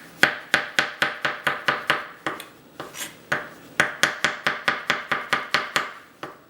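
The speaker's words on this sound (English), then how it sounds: "When I have my chef knife, and then I just make my slices with it." A chef's knife cuts through chicken on a cutting board in a quick, even run of about twenty crisp strokes, each a sharp knock on the board, close and clear with a short pause midway and no voices.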